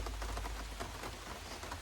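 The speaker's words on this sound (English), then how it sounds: "We're getting some rain. That'll be a nice sound." Rain falls steadily in a continuous, even patter, a dense wash of droplets with no voices.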